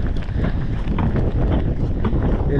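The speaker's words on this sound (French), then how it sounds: "là il y a encore plus de vent, il pleut" Strong stormy wind, with rain, sweeps an outdoor pike-fishing spot. It buffets the microphone as a loud, gusty, rumbling roar for a few seconds, and no voices are heard.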